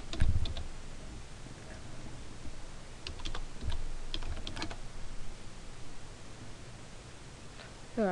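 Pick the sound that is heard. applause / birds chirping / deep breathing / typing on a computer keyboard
typing on a computer keyboard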